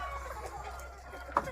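Chickens, including Andijan black hens, on a home poultry farm give faint, soft clucks in a quiet space, with one brief, sharper call near the end.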